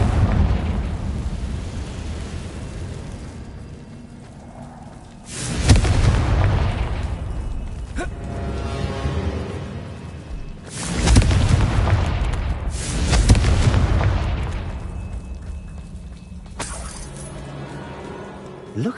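Confringo fire spell explosions in Hogwarts Legacy, several loud fiery blasts bursting out at intervals with rumbling decay between them, with spoken voices in between.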